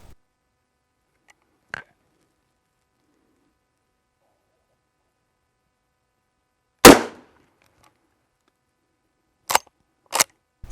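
A .357 Magnum revolver fires cast hollow point rounds at a chronograph and gel test setup, with sharp isolated shots spaced out, one loud report followed by a quick pair and another near the end.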